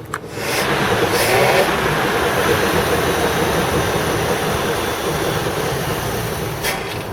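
A 1952 Packard 300 sedan engine idles steadily up close, a dense continuous rumble with a faint rise early on, running alone for several seconds as it is about to be shut off and the gas supply closed.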